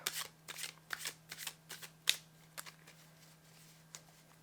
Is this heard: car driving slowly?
no